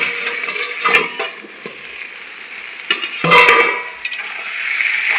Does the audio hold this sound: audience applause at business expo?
no